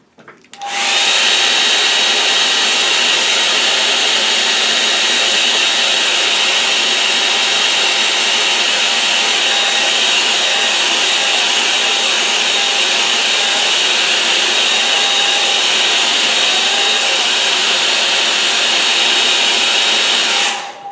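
A hair dryer blows steadily and loudly at close range for about twenty seconds, drying wet acrylic paint on a watercolour-style painting of a snowy Essex field, with no talking over the continuous whoosh.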